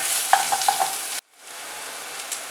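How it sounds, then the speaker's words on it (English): Ingredients sizzling in a pan while frying for dal fry, with a few sharp stirring clinks of a spoon against the pan, then an abrupt cut and a softer continuous sizzle. "I'm going to fry this till it becomes nice and brown, light brown."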